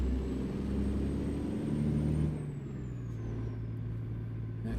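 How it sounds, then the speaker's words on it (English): A large box truck in a video game rumbles past with a steady engine drone that fades as it moves away, alongside a thin high whine. "Yeah, come on, box truck, just zoom right by me."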